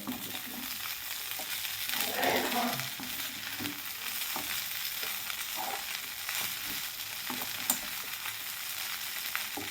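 Cooked poha garnished with fresh coriander sizzles softly in a hot pan while a spatula stirs and mixes it, with scattered scrapes and clinks over a steady frying hiss and no talking.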